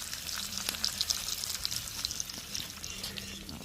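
Sea bream frying in a pan at a campsite, a steady crackling sizzle with small pops and spatters, moderately quiet and continuous throughout.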